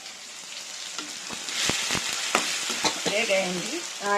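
Ingredients for egg rasam fry in a hot pan, with a steady sizzle and crackle broken by several sharp spatters and stirring clinks, some metallic scraping near the end.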